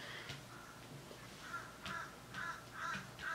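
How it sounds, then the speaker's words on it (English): Crows caw outside, a run of harsh calls that start sparse and grow more frequent, repeating roughly every half second toward the end, moderately distant and faint against a quiet background. "You hear the birds? Always crying off."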